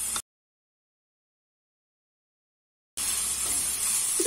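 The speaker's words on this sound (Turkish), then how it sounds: "Bir dakika kadar da havuçlarımızı kavuralım." Carrots added to softened onions and minced meat sizzle in a pan, a steady close hiss that cuts out briefly and then resumes loud and even.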